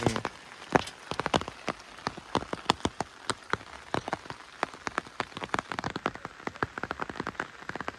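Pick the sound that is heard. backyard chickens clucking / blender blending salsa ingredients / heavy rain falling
heavy rain falling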